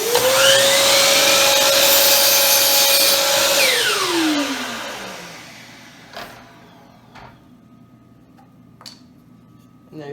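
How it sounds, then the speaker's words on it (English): A DeWalt miter saw spins up with a loud rising whine and cuts a 30-degree angle through wood, holding steady for about four seconds before winding down. A few sharp clicks and knocks follow in a quieter room. "I've set my miter saw to 30 degrees, so I'm going to cut off the angle"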